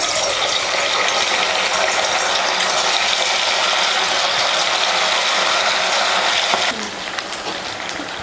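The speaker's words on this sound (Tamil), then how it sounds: "இப்போ சில்லி பொரிச்சுக்கலாம்." Pieces of chilli chicken sizzle loudly in hot oil in a steady hiss of frying, which eases slightly near the end.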